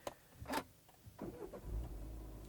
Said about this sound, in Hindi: और कुछ इस तरीके से स्टार्ट होती है। स्टार्ट स्टॉप बटन यहाँ पे है इसका। डीजल गाड़ी है ये